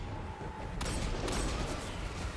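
Hand cannon gunfire in the video game Destiny 2, with a couple of sharp shots cutting into a dense, noisy wash of game sound.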